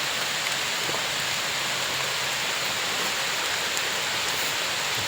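Steady rain pours down in a dense, even hiss that holds without a break, close and fairly loud.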